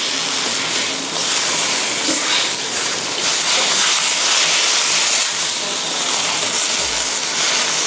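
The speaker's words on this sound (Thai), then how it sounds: "ผัดให้เข้ากันค่ะ" Razor clams stir-fried with holy basil in a hot pan: a loud, dense, continuous sizzling hiss fills the whole stretch, close up and steady, with no talk.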